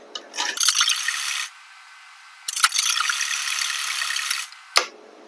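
Sewing machine stitching a blouse lining, two bursts of close, buzzing run separated by a pause, with brief clicks as the machine starts and stops.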